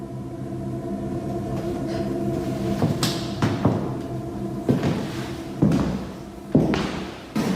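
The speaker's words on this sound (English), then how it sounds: "Open this door like you did the other one." Several dull thumps and knocks of a door being worked open, irregular hits over a steady low rumble, close and fairly loud, no talking.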